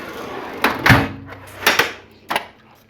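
A metal drawer in a mechanic's tool box slides open and shut, a few scraping clunks and rattles of tools shifting inside, close and fairly loud with quiet gaps between.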